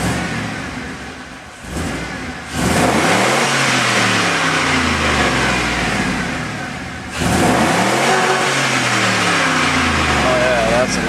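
Used 2002 Chevy LQ4 6.0-litre LS V8 with about 190,000 miles, running on a stand and blipped twice, each rev surging loudly from idle then sweeping back down, with a brief lull between and faint talk near the end.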